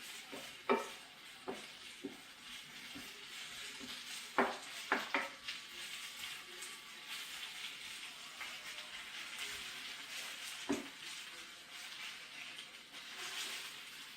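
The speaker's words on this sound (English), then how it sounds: "you're stirring it to keep the garlic from sticking to the bottom and burning" Spinach and garlic stirred in a pan until wilted and soft, with scattered utensil scrapes and taps against the pan over a steady low sizzle, no one talking.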